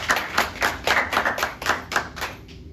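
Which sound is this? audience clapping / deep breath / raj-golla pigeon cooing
audience clapping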